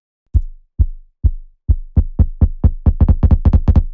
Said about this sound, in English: Pretty snappy, nasty sounding kick.